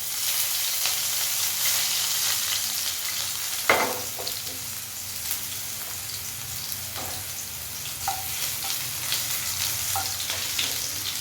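Mustard seeds and crushed garlic fry in oil over a low flame, giving a steady close sizzle with scattered pops and a few sharper crackles throughout, no voices.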